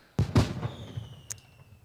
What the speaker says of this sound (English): Fireworks coming from nowhere.